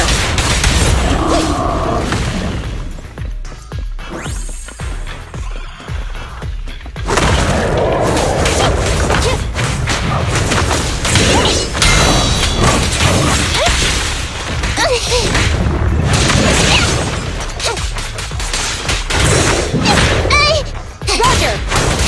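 Gunfire and heavy explosions from the action game Zenless Zone Zero, a dense, loud barrage of booms, crashes and whooshes with a short lull before the combat swells again.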